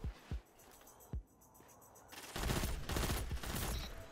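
Pulse rifle fire in Destiny 2, a few sharp isolated shots at first, then a dense, sustained volley of loud close bursts through the second half.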